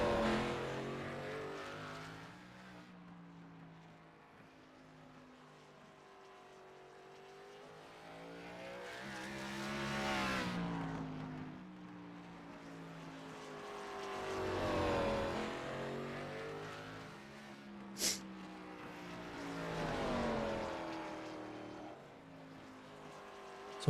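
Race cars lap Hickory Motor Speedway during qualifying, engines swelling and fading as cars pass at a distance, with a steady drone of revving and a few sharp peaks, faint overall.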